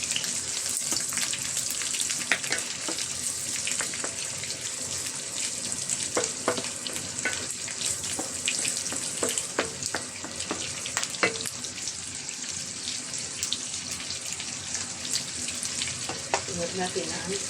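Onions sautéing in a pan for Filipino pinakbet, a steady close sizzle with occasional stirring clinks and scrapes, no one talking.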